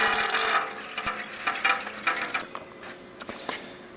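Coolant pouring and trickling out of a KLR 650 motorcycle radiator with the cap off, a close, busy splashing rush for a couple of seconds that thins into softer intermittent drips and gurgles.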